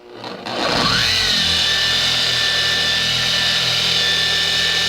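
A polishing machine spins up on car paint while light swirls are being corrected, a steady loud whine and rumble that holds constant after a brief start-up sweep.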